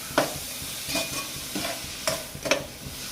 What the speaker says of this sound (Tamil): தக்காளி போட்டு நல்லா 2ம் சேர்ந்து மசிஞ்சு வரணும். அந்த அளவுக்கு நல்லா வதங்கணும்.